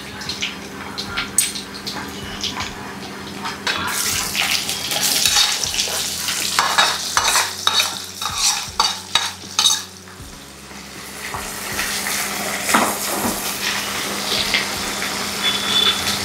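Onions fry in hot oil with mustard seeds and cumin in a pan for a North Karnataka brinjal curry, sizzling steadily while a spoon stirs and scrapes in uneven bursts, with no talk.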